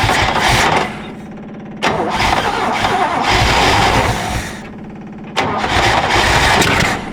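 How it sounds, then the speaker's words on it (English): Old GMC truck engine that sat for 30 years cranking and catching, in repeated loud bursts of starting and revving separated by short lulls, with no talk over it. "Got the choke adjusted. Now we're going to try to start it again."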